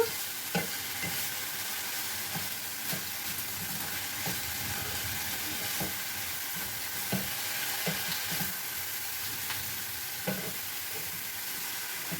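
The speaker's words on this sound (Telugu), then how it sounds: "ధనియాలు బాగా కలిపేసుకోవాలి. ఇలాగా ఈ పచ్చివాసన పోయే వరకు వేసుకోవాలి కూరకు." Curry with onion and coriander seeds being stir-fried in a pan, a steady sizzling hiss throughout with soft periodic clicks and taps of a stirring utensil, no voices.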